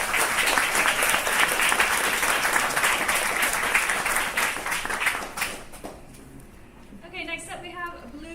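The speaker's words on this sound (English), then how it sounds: "Let's get a round of applause, please." A room full of listeners claps after a student project presentation at Seoul Tech Impact 2024, loud sustained applause that fades out after about five seconds, followed by quieter room sound with a little talking.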